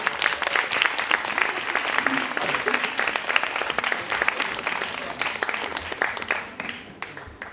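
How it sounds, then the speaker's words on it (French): Audience at an evening Jean Claude Biguine event at the BBox breaking into sustained applause, dense rapid clapping close and loud throughout before thinning slightly at the end, with a few voices underneath. "Sous vos applaudissements"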